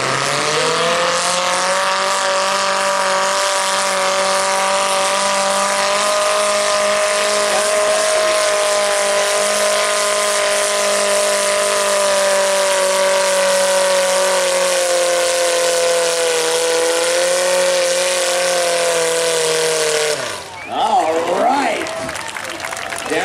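A truck engine revs hard at a Friday night motorsport event in Odessa, a loud sustained roar holding steady for about twenty seconds before cutting off into a burst of shifting noise, with an announcer talking over it.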